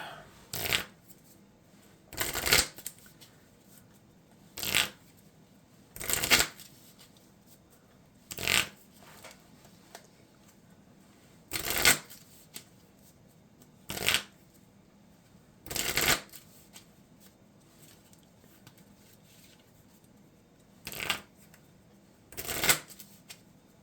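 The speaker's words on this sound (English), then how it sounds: "I need to shuffle my deck for 1 more card." A deck of Marvel Champions cards being shuffled, about a dozen short crisp riffling bursts repeated at uneven intervals against a quiet room background.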